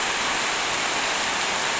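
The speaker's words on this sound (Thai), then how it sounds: "ได้เก็บภาพบรรยากาศมา ฝากพี่ฝากน้องครับ เป็นบรรยากาศฝนตก" Heavy rain falling in Pattaya, Thailand, a dense, even hiss of downpour that fills the whole stretch with no break, close and steady.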